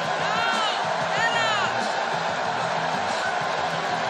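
A virtual arena crowd in WWE 2K18 roars steadily, with occasional rising whoops, beneath a commentator's voice during a wrestler's entrance.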